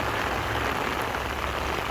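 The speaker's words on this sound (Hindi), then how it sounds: "बहुत तेज़ बारिश हो रही है।" Heavy rain pattering steadily and densely on an umbrella, a constant close hiss with no voices.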